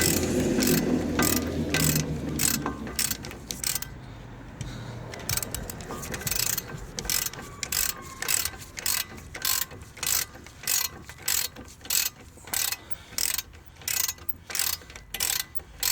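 Ratchet wrench working a stubborn bolt loose on a Suzuki 2.0 l engine: close, rapid clicking bursts, first tight and effortful, then settling into a steady rhythmic series of separate ratcheting strokes, with no talking.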